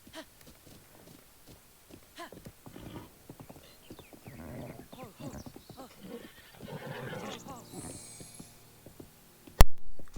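A horse in Breath of the Wild whinnies and neighs amid clip-clopping hooves, with repeated neighs and hoofbeats spread over several seconds, partly under a person talking, ending in a sharp loud burst.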